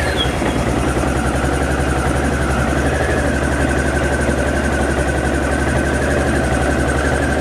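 Honda DN-01 motorcycle engine running close by, a steady low idle drone with a faint higher whine, even and unbroken throughout.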